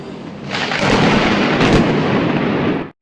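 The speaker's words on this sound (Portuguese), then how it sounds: "Em uma tempestade, é muito comum primeiro ver o relâmpago no céu e depois ouvir o trovão." A loud, sustained rumble of thunder in a storm rolls on for nearly three seconds, swelling after a brief onset and cutting off abruptly at the end, with no voices.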